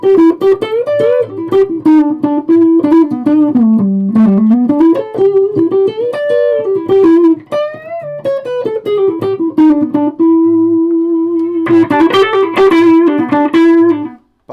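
Westone electric guitar humbuckers driven through a Rat distortion pedal, playing a loud, continuous, heavily distorted riff of chugging chords and fast picked notes, with a brief break before a sustained final chord.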